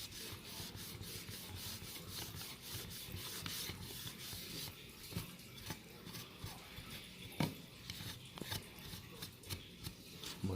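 Steady scrubbing and rasping as grime is rubbed off a 1978 Kenner X-Wing toy, a continuous close-up friction noise with a few sharper knocks, no talking.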